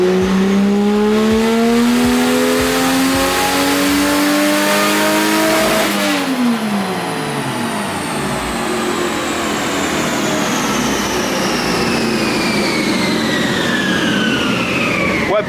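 A turbocharged Toyota Supra running on E85 revs hard at full throttle, its loud engine note climbing steeply, dropping briefly as it shifts, then rising again in a long, continuous roar close by.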